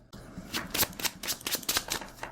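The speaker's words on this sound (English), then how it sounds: "I just realized you shuffled it slightly differently than I do." Sleeved Magic: The Gathering cards riffled and shuffled close up in a run of quick, crisp bursts of papery flutter and slaps, with no talk.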